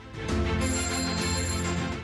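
A telephone rings in a jingle for a farmers' helpline broadcast, a steady bright ringing tone with musical backing, loud and continuous for about two seconds with no talk.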